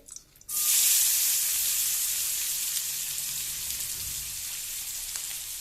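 Onions and green chillies hitting hot oil in a pan where minapa vadiyalu were fried, a sudden loud sizzle that starts after a brief quiet moment and keeps hissing steadily and close throughout.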